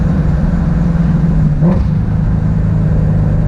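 A tuned Shelby GT350 engine rumbles loudly and steadily up close, with a brief rise in pitch midway like a quick rev before settling back to a deep drone.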